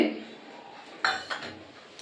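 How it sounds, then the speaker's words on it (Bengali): Metal bowls set down with a couple of sharp clinks on a stand inside a covered pot of water for steaming, a brief clatter over low kitchen background. "এরপর জলেতে এই একটা স্ট্যান্ড বসিয়ে নিচ্ছে ঢাকা দিয়ে দিলাম তার মধ্যে আমি তিনটে যে বাটি নিয়েছি"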